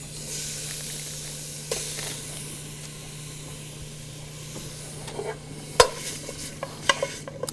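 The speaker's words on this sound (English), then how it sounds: "we're just going to stir a little bit. We're going to cook it" Ingredients are stirred in hot canola oil in a pan during a Korean cooking class, giving a soft steady hiss with sharper scrapes and clinks toward the end.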